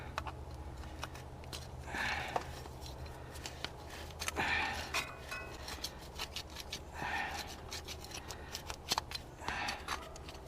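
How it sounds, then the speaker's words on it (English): Scraper rasping old gasket material off a Jeep Cherokee XJ thermostat housing, a series of short scratchy strokes in irregular bursts, close up over faint background hiss, no talking. "You just scrape that off too. Make sure you get all that off."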